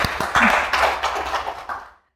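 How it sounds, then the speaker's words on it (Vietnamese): A short round of applause from a live studio audience on a comedic couples talk show, dense clapping for about two seconds that fades out at the end. "Cho thêm một tràng pháo tay"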